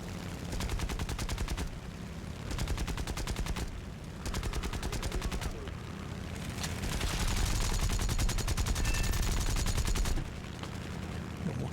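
Imperial Japanese aircraft guns fire in War Thunder: several rapid machine-gun bursts of a second or two, separated by short pauses, then one long sustained volley, loud and close over steady engine drone.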